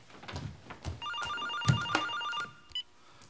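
A telephone rings with a clear electronic warbling tone in a Korean drama scene, starting about a second in, amid room noise and movement, then cutting off shortly before the end.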